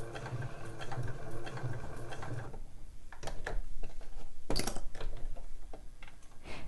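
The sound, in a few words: sewing machine stitching fabric around curves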